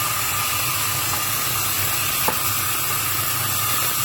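A steady loud hiss and sizzle rises as chicken stock goes into Chinese-style chicken Manchurian cooking in a hot pan, continuous and close with one faint click midway, no talking.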